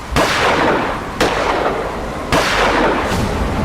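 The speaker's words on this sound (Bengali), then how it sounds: "জয়ন্ত ও মানিক 3 বার বন্দুক ছুঁড়ল।" Three loud gunshots, a sound effect in a Bengali audio story, each a sharp close blast followed by a rolling decay, spaced about a second apart with no voices.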